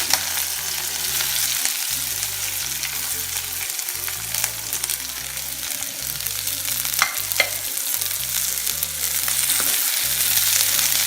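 Mustard seeds and black pepper sizzle and fry steadily in hot oil for a Nagercoil-style onion pachadi, a dense close crackle that continues without a break and grows a little louder toward the end, with no voices.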